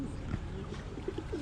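Pigeons coo inside a farm coop: low, throaty cooing calls rise and fall continuously against a steady background hum of the birds, close and moderately loud.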